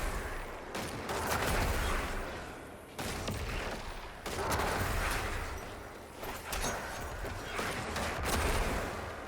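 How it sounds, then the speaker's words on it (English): Hand cannon fire in Destiny 2 with case foil explosions, a dense continuous barrage of crackling blasts and booming detonations in rapid succession, briefly dipping between bursts, with no voice. "I'm probably just going to stop talking so you can hear them case foil explosions"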